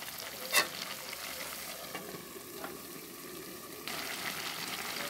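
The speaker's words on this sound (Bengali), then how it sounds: "ঢাকনাটা সরিয়ে আমি ভালো করে সবজিগুলো নাড়াচাড়া দিয়ে দিতেছি।" Winter vegetables with dried fish being stirred in a pan, a faint crackling sizzle with a sharp clack early on and gentle stirring strokes, no voices.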